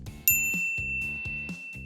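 A bright notification bell dings once, sharp and loud, its clear ringing tone sustaining under a rhythmic, bouncy music bed.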